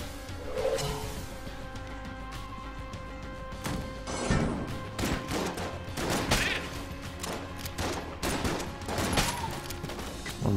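Rapid bursts of gunfire in the Enter the Gungeon video game, with clustered shots, crashes and impacts scattered unevenly over a steady game soundtrack, fairly loud and close.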